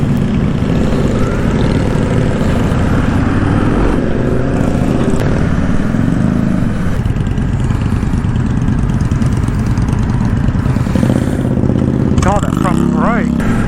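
An Indian Scout motorcycle on a demo test ride drones steadily and loudly throughout, its engine hum mixed with wind rush, with a brief rising rev near the end.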